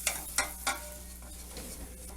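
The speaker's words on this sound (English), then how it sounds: "And just stir that in together." A spoon stirs flour into melted butter in a pan, giving a few quick scraping strokes over a soft, continuous sizzle close at hand.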